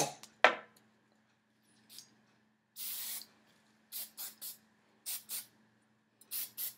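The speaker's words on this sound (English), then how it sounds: "I'm going to try to spray as much as this hair" Short hissing bursts of hairspray from an aerosol can, some single and some in quick pairs, separated by quiet gaps, after an initial sharp clatter.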